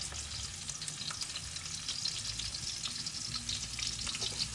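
Onions sizzle in a frying pan while cooking a turkey kaldereta, with a steady, fairly quiet hiss and crackle that holds evenly throughout, with no talking.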